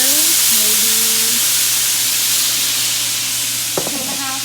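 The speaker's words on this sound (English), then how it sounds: "I'm gonna go ahead and add a little bit of Worcestershire sauce. That's gonna add acidity to the pan." Worcestershire sauce hits a hot pan of braising oxtails with a loud, steady frying sizzle throughout, a faint tone over the start and a light clatter near the end.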